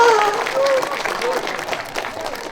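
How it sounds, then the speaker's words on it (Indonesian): An audience claps at a public speech, a short burst of dense applause that starts loud and gradually fades, with a voice talking briefly over it. "Tepuk tangan."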